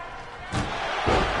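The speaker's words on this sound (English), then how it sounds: "So what you're hearing is the absolute thud of the human body." A body slam thuds heavily in the WWE 2K19 wrestling video game, with two dull impacts half a second apart over crowd noise and commentary-style game sound.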